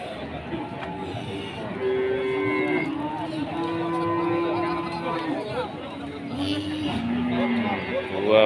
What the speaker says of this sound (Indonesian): Ada sapi limusin